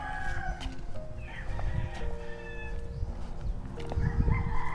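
Chickens and a rooster around a rural home yard, with repeated clucks and crowing calls, some near and some farther off, over a busy background of mixed bird chatter.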